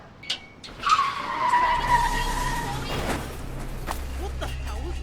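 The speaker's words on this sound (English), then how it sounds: "A car crash can be heard." A car skids with a long tire squeal, then crashes in a horror video game, followed by rumbling engine noise and lingering scraping sounds.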